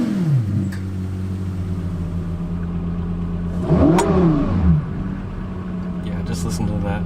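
A Lexus LFA engine revs from idle toward near red line in a sharp, rising burst, then settles back to a steady idle rumble, loud and close.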